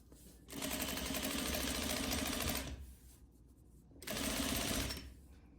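A sewing machine stitching cording into a corset panel, running in two loud, steady close-up bursts of rapid mechanical whirring, the first long and the second short, with a quiet pause between them.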